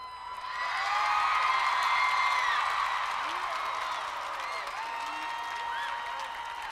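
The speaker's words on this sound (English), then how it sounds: "I gave that big round of applause for Craig and Mark Kielburger." An audience at a talk breaks into a big round of applause, with dense clapping swelling quickly and holding, mixed with whoops and whistles, then easing slightly toward the end.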